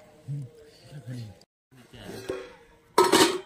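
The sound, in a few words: pots and dishes clattering while being washed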